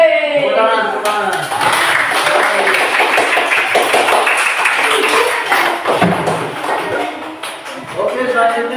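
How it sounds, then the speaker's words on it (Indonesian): Classroom applause for a student group, a dense burst of many hands clapping steadily throughout, with a teacher's voice speaking over it. "Jadi kasih aplaus untuk mereka."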